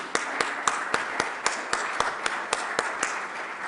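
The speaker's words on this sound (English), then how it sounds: "he has the right for applause" A small audience claps at a conference closing session, steady, fairly quick individual claps standing out clearly over a soft wash of room noise.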